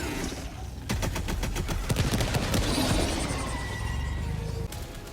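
In the video game Helldivers 2, a W.A.S.P. rocket launcher fires in a rapid burst of sharp, loud cracks and booms, followed by lingering rumbling explosions and debris, with no talking.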